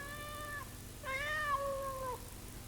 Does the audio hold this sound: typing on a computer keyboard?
no